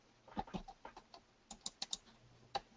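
Keys tapped on a computer keyboard in an irregular burst of about a dozen crisp clicks, close and quiet, with no talking.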